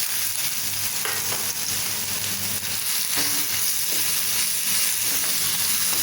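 Chopped raw mango pieces fry in hot sesame oil for a mango pickle, giving a constant dense sizzle with a few faint stirring knocks mixed in and no speech.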